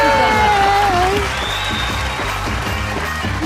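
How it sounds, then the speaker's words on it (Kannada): Audience applause and cheering at a Kannada TV game show during a book launch, a sustained loud crowd roar with rhythmic clapping under music and a voice talking over it. "ಚಪ್ಪಾಳೆ ಬರಲಿ."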